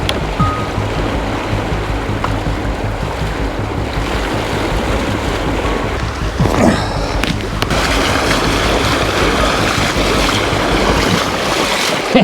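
Someone wades across a mountain river while hiking in Azerbaijan. Loud, steady rushing water fills the whole stretch, with a brief burst of splashing disturbance partway through.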